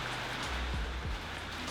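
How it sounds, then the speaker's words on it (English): Heavy torrential rain pours steadily, a dense continuous roar of drops on surfaces with a low rumble underneath and no voices. "Wow, that rain is heavy"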